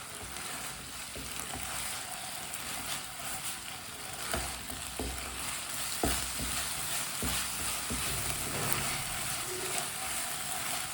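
Jaggery cooking in a hot pan while a spoon stirs it steadily, giving a continuous soft sizzle with scraping and occasional knocks of the spoon against the pan, close and moderately quiet.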